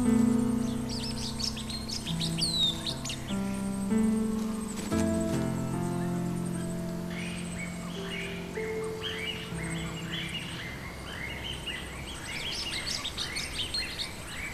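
A black bulbul, black-feathered with a red beak, calls in a forest at Dan Ta. Bright chirps and tweets come in clusters, fairly close and clear, over steady lower tones in the background.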